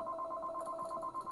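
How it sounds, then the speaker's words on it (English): Telephone ringing in a workshop during a hand tool woodworking session, a steady electronic warbling trill repeating quickly at moderate distance, fairly faint against the room. "I'm getting a phone call."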